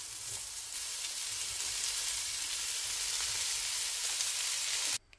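Green, yellow and red peppers sizzle steadily in a pan of curried onions, a loud, even hiss with no talking, cutting off abruptly at the end.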